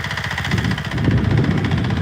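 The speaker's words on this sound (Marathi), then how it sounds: "बघा मित्रांनो ट्रॅक्टर चालू आहे आपलं" A tractor engine runs steadily nearby, a loud, continuous low rumble with a throbbing mechanical pulse and no breaks, heard without speech.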